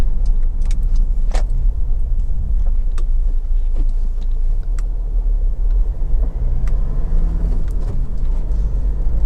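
Honda CR-V 2.2 i-DTEC EX four-wheel-drive diesel driving on a road in good conditions, heard from inside as a steady low engine and road rumble with faint scattered clicks and rattles, no talking.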